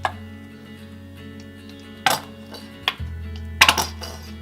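Aloe vera leave-in conditioner being stirred with a spoon, giving a few sharp clinks and scrapes against the container at about two, three and three and a half seconds, with no talk.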